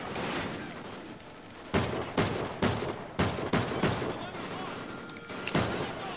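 Gunfire in the Call of Duty Ghosts campaign: a series of sharp, loud shots in uneven bursts over constant battle noise, each crack standing out clearly against the background.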